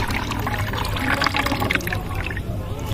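Reddish liquid medicine pours steadily into a bucket, a continuous close splashing and gurgling that swells and then tapers slightly toward the end.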